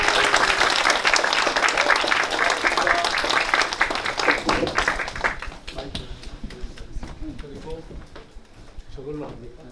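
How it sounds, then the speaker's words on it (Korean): A lecture audience at Chosun University applauds loudly to welcome a political party's emergency committee chairman to the stage. Dense clapping fills the first half, then thins and fades out, with voices heard underneath toward the end. "여러분 환호와 함께 힘찬 박수로 무대에 모시겠습니다"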